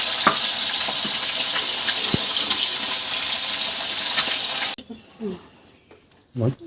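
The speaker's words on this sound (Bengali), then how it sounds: "এই কটা মাছ কালিয়া করবো, এই 4 পিস মাছ, ওগুলো ভেজে রেখে দিচ্ছি।" Four pieces of rohu fish frying in hot oil make a loud, dense crackling sizzle with pops for several seconds, then the sound cuts off and someone speaks over quieter room noise.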